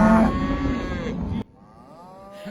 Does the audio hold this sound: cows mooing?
yes